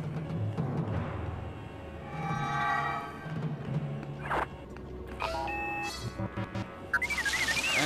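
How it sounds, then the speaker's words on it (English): R2-D2 beeps and warbles in the Lego Star Wars video game, a run of electronic chirps and trills over busy game music and effects, with the pitch rising and falling quickly near the end. "R2's doing beep-bop"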